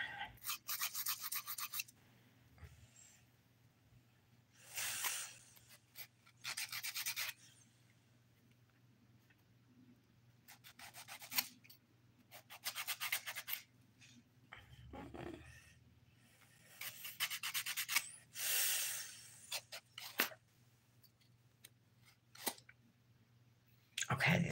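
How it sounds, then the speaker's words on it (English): Fingernails being filed with a nail file during a dip-powder manicure, repeated close-up rasping strokes in several bursts separated by quiet pauses. "I'm just kind of filing it away."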